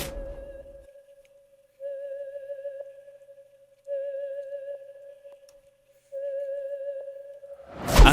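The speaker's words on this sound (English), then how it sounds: "this melody that was played with a lead called the theremin lead" A theremin-style lead synth preset from the Monopoly plugin in FL Studio plays a slow, sustained melody with wavering vibrato, phrased in several long held notes separated by short gaps, clean and alone.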